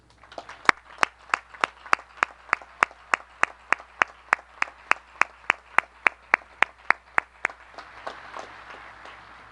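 At the U.S. Naval Academy commencement, sharp, evenly spaced claps sound about three times a second, crisp and fairly close over a quiet room, tailing off into softer scattered clapping near the end.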